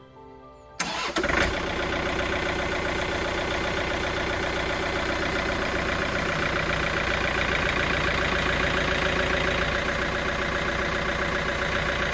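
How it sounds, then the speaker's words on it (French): A small John Deere micro tractor engine cranks and catches after a brief quiet moment, then settles into a loud, steady running drone close by that continues without a break, with no talking. "maintenant, je vais démarrer le tracteur et je vais lever le tracteur avec le chargeur"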